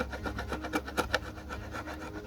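A chisel scrapes dried glue or epoxy off the outside of a wooden boat hull in short, close rasping strokes, each a gritty rub of metal on wood, with no talking.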